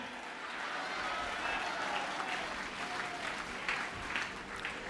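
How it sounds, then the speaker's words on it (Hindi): A church congregation claps loudly together in a sustained round of applause, a dense wash of hand claps filling the room for several seconds. "जोर से ताली बजा के धन्यवाद यीशु के साथ ऊंची आवाज में धन्यवाद यीशु बोलें"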